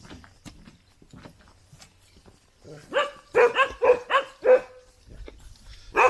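A farm dog barks in a quick burst of about six loud, close woofs, with softer scuffles and a few faint yips before it.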